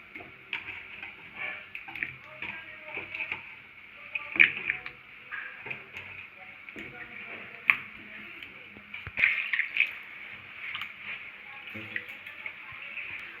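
Pieces of teasel gourd are dropped into hot water in a kadai on a gas stove, giving small close splashes, drips and soft ticking clicks scattered irregularly over a low background.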